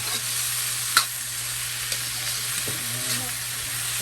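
Sliced bamboo shoots sauté in a pan with already sautéed aromatics, a steady broad sizzle with a low hum beneath and a few sharp stirring taps.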